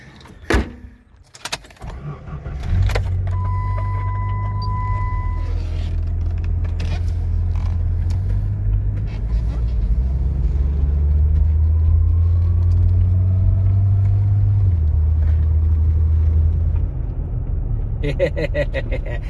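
A Jeep ZJ on a test drive after a rear brake caliper replacement, a steady low engine and road rumble from inside the cab, with a door or window thud at the start and a faint tone early on.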